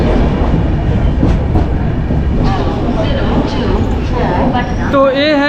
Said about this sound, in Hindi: तो ये है अपनी ट्रेन